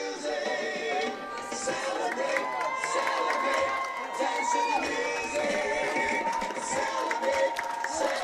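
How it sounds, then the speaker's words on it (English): Home football crowd in Waupaca on its feet at a 2025 high school game's final seconds, cheering and whooping loudly and continuously, with children shouting and scattered voices throughout. "Comet faithful are all standing and on their feet cheering on the team as it counts down from 3 to 2 to 1"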